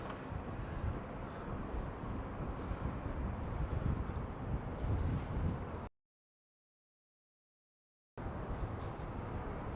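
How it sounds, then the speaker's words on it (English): Strong wind gusting along a street in Bensonhurst, Brooklyn, a steady broadband roar buffeting the microphone for several seconds, cutting to silence briefly before the blustery rush resumes. "It's windy, yeah, it is very windy"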